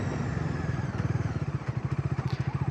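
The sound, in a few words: Bajaj Dominar 400 motorcycle engine pulling at low speed in 4th gear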